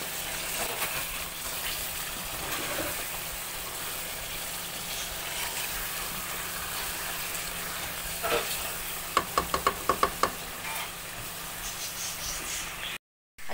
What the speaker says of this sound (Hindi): तो इसमें मैंने ये हरी मिर्च और धनिया ऐड किया है अभी, और इसको मैं थोड़ा सा भूनूंगी यहाँ पर।